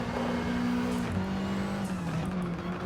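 A race car engine runs at full throttle in Gran Turismo 7, droning loud and steady with a sustained tone that drops slightly mid-pass as the revs shift, with a faint tire hiss and no talking.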